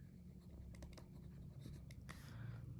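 Marker or chalk scratching across a board while someone writes out a definition of unit vectors, producing a run of short scratchy strokes and taps, moderately close with steady room noise underneath.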